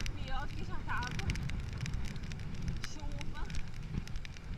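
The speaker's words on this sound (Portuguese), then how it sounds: "um vento pior do que já tava" Strong wind roars steadily across the microphone during an outdoor interval training session, a constant loud rumble with crackling gusts throughout.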